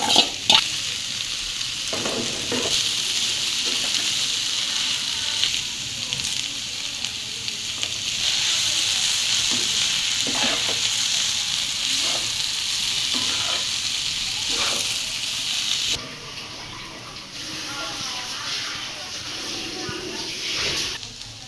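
Banana stem sizzles in a frying pan with ginger, a loud, continuous crackling fry broken by occasional stirring scrapes, and a voice is heard talking over it.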